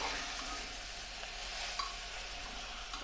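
Chicken stew is stirred and fried down in a pan, a continuous soft sizzle with scraping stir strokes and a brief clink of the spoon, steady and close, with no voices.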